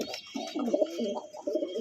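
A breeding master pair of pigeons coos in a loft, a series of throaty rolling coos in uneven bursts, close and moderately loud with no talk.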